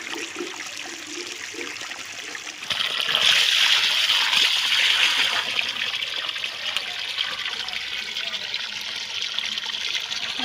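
Water from a bore pump pours steadily into buckets outdoors, a continuous splashing rush that grows louder and fuller partway through as the flow hits the filling bucket, with no talking.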